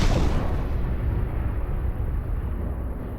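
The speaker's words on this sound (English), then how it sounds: "I'm exploding an entire pit of bombs" A whole pit of bombs exploding in the game Fireworks Mania, a heavy rumbling blast that rolls on as a loud continuous roar of debris and fire, with no talk.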